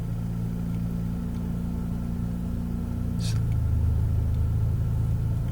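Manual-transmission car driven by an 11-year-old on an early driving lesson, in second gear pulling away as the clutch is slowly let out: steady low engine drone that shifts pitch and swells slightly as the drive takes up, with a brief higher noise midway.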